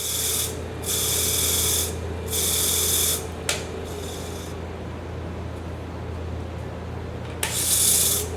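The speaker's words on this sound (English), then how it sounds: "Trim up or sand off the edge of the box" Sandpaper rubs against the edge of a turned wooden lidded box on a lathe, in several bursts of steady rasping over a constant motor hum, with short pauses between strokes.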